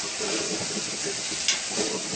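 Vegetables thickened with a spoonful of flour being stirred in a hot pan, with a continuous close sizzle and soft scraping strokes and a brief clink near the middle.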